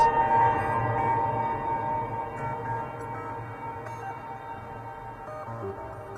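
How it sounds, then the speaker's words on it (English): Sustained synth tones from a Roland MC707 groovebox with a wash of its reverb trailing behind, a spacious electronic pad droning steadily with no voices. "So let's go back to the MC707 reverb and see what the difference is."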